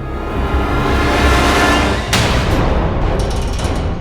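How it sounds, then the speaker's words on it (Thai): Dense, loud bursts of gunfire and rumbling booms blend into a continuous roar, with a sharp crack near the middle. "แต่จู่ๆก็มีเสียงปืนดังขึ้น"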